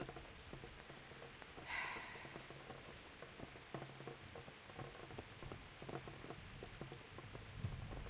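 Rain in the medieval video game Kingdom Come: Deliverance patters softly and steadily, a faint diffuse hiss dotted with small drips and light taps, with a brief brighter sound rising near the start.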